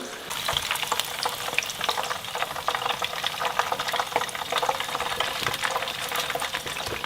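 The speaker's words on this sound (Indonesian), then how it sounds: "Kita goreng ikan ya." Steady crackling sizzle of fish frying in hot oil, loud and close, continuous with occasional sharper pops and no talking.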